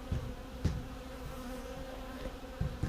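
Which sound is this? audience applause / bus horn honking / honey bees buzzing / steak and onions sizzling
honey bees buzzing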